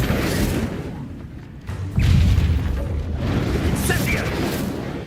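In Hogwarts Legacy, an Incendio fire spell bursts out with a loud whooshing roar partway through, amid ongoing combat rumble and voices talking over the action.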